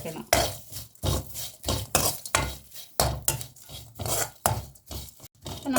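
Dried prawns are stir-fried in a pan for a prawn roast, with a metal spoon scraping and tossing in repeated rhythmic strokes and a light sizzle underneath, close and clear.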